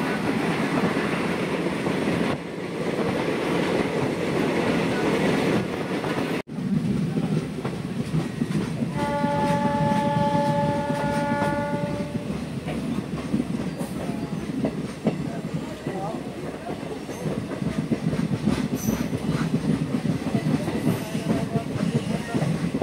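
A passenger train running from Agartala to Sabroom in Tripura, with continuous rumbling and clickety-clack of the wagons on the rails close by, and a sustained tonal horn-like whine partway through.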